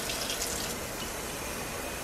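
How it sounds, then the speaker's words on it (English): Tap water runs steadily into the clean water tank of a Neakasa Power Scrub vacuum, a continuous close hiss and splash that holds for two seconds with no voices. "I'm gonna put water"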